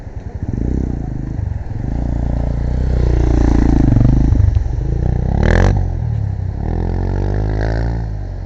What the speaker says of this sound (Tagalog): Nagwawala na yung motor ko na yun.